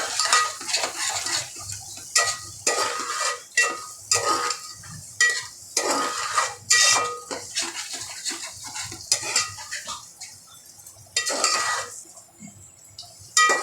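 Misal masala sautéing in oil in a pan over low flame for white pea misal pav, with steady scraping and stirring strokes, clinking utensil taps and a soft sizzle underneath, close and fairly loud, with no talk.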